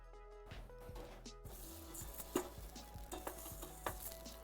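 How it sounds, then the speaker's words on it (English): Rice toasts in hot oil in a pan, a steady sizzle broken by the scrape and clink of stirring utensils against the pan. "Yay, sizzling sounds."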